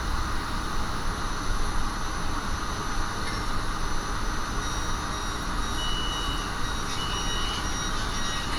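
An underground metro train in Malaysia pulls out of a station with a continuous close rumble and a high whine, as faint tonal beeps ring out over the steady roar.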